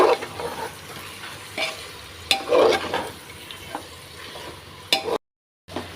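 Spice paste for a Bengali meat curry stirred in a frying pan over low heat, with soft sizzling and a series of scraping spoon strokes at an irregular pace.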